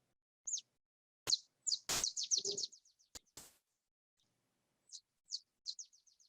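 A Pacific-population bird sings high, rapid chirping phrases in quick descending series, with a few sharp clicks between bursts and short pauses, clear and isolated against silence.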